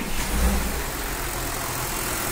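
A Porsche Cayenne engine running at a steady idle after starting, a constant low rumble with a faint bump early on and no talk.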